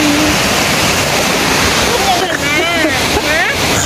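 Water pours steadily over the fifth tier of Mae Sa Waterfall in a constant broadband roar, and voices rise faintly over it toward the end.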